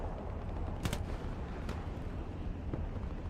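Tank battle gunfire between a Churchill and a Panzer IV in the desert valley of El Alamein in Hell Let Loose, with distant booming shots at irregular intervals over a constant rumbling battlefield background.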